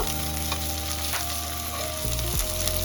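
Tomatoes and green chillies frying in oil for a tilapia curry, a dense, even sizzle close in the pan with no voices.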